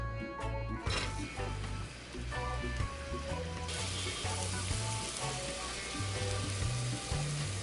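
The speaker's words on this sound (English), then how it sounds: "just enough to be able to saute the seasoning. So I'm doing that right now." Seasonings sauté in a hot pan with a steady close sizzle and crackle under some clinking and background clatter, with no speech.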